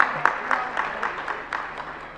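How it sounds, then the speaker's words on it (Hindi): Audience at a Jain religious discourse gives a brief burst of clapping, a series of sharp, evenly spaced claps at moderate distance, fading slightly over about two seconds. "जरा तालियां बजा दीजिएगा"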